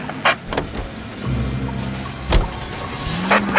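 A car in the L.A. Noire video game drives with a low engine rumble, while doors or windows thump and whir in a few sharp bursts near the start and middle, no talk over it.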